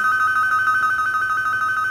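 A telephone bell rings continuously in a steady, piercing electronic tone that holds at constant loudness throughout, with no speech over it.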